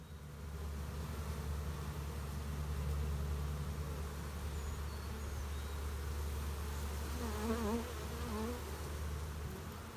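A honeybee swarm buzzes thickly around a hive box outdoors, a dense, continuous drone of many wings with individual bees flitting close past, steady and moderately loud throughout.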